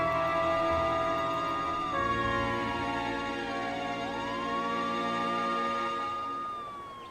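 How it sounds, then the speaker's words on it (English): Wailing sirens rise and fall continuously, loud and close, several overlapping tones sweeping up and down with a steady rumble beneath. "the wail of sirens filled the air"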